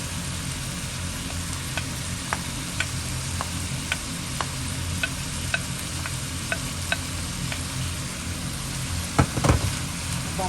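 Chicken breast meat is stir-fried in a small, full pan for pancit, with a steady loud sizzle and regular clacks of the spatula against the pan, a few harder knocks near the end.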